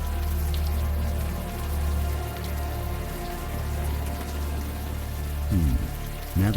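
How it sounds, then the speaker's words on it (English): Rain falls steadily in the video game Unavowed, a continuous close patter layered over a low ambient drone, with a brief louder swell near the end. "the warm rain is coming down"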